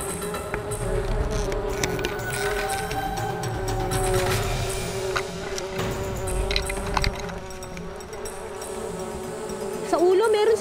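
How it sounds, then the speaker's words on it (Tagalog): A swarm of wild honeybees flies and buzzes loudly around a disturbed hive amid smoke, a dense continuous drone throughout, with people shouting over it. "nakikita ninyo nagliliparan na yung mga bubuyog"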